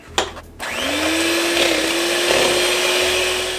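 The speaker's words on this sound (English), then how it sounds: "Now we're going to grab our mixer and go ahead and mix up this." Electric hand mixer whirring steadily as it beats banana cream pie filling, a loud close motor drone with a sustained tone after a short clatter at the start.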